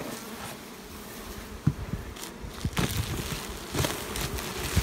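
Honey bees buzzing around an open beehive during a hive inspection, a dense close hum with individual bees droning past in louder swells, and no talking.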